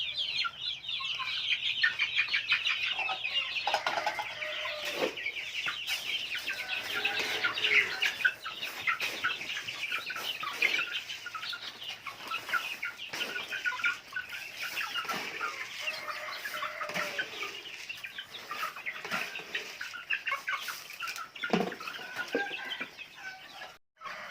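A flock of young farm chickens clucking busily while being fed rice, with dense overlapping clucks and chirps close by, continuous for over twenty seconds and with no talking.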